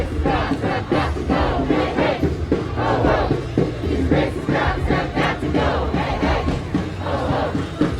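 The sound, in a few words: crowd of protest marchers cheering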